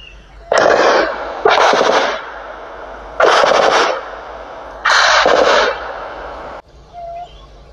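Soldiers fire into the air in four long bursts of rapid automatic gunfire, loud and close with short pauses between them and a brief quieter tail at the end.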